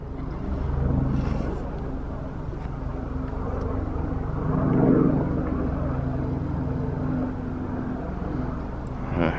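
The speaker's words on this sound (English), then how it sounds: "A helicopter flying right there." A helicopter flies over a Kansas lake during white bass fishing, a steady low rotor rumble that swells louder midway, then eases, with no talking.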